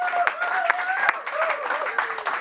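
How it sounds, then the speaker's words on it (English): Audience clapping for a performer brought on stage at a sketch comedy show, a moderate burst of applause with cheers and voices mixed in, lasting a couple of seconds. "Give her a clap."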